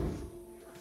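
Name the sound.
broken door scraping the floor as it moves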